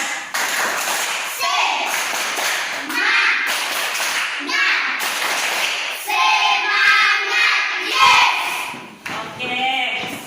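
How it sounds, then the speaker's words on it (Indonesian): Schoolchildren in a classroom perform a rhythmic spirit clap, bursts of patterned hand claps and taps in quick sequences, with a teacher's voice and children's chanting mixed throughout. "Oke, kita bangun berdiri, tepuk semangat."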